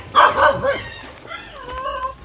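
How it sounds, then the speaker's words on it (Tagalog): A dog barks and yips twice in quick succession at moderate distance in a crowded residential neighbourhood with many dogs, then quieter whimpering or yelping follows under faint background noise. "Grabe yung aso naman."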